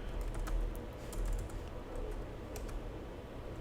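Fingers tap quickly on a computer keyboard while someone writes JavaScript code, a close, steady stream of soft key clicks with no talking.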